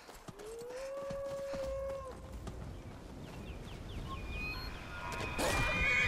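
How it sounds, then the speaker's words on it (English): A horse neighs loudly in a video game, a drawn-out rising whinny early on followed by scuffling, rustling ambience and a sharper burst of noise near the end. "You get away from this horse!"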